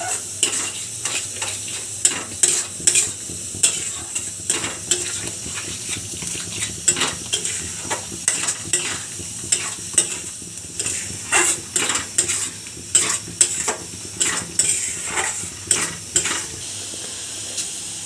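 Masala for an Odisha fish head dal fry with cabbage is stirred in a sizzling pan, a spoon scraping and clinking against the metal in a quick irregular rhythm over a steady frying hiss.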